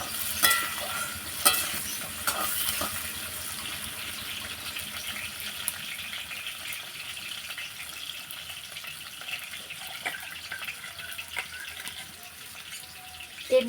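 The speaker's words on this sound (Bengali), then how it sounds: "আলুটা ভাজা হয়ে গেছে।" Potatoes fry in a pan of oil with a soft continuous sizzle, stirred now and then with faint scraping taps, fairly quiet throughout.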